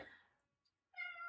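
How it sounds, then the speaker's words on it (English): A pet cat meows twice indoors, a fading cry at the start and then a sharper, tonal meow after a short pause, close and fairly clear, with no talk. "Cat wants my attention"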